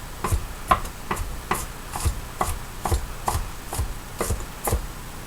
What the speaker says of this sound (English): Let's chop the rest of this up